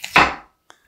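A knife slices through a peeled, rinsed potato on a cutting board with one firm, close chop, the cut ringing briefly before a faint small tap follows.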